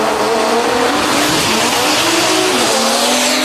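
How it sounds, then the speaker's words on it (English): Drag race car at a DCT World Cup event making a pass, a continuous loud engine roar throughout with tire noise, close and dominating, no voices. "Kyle Seibert coming around for another shot in the Router Race Labs car"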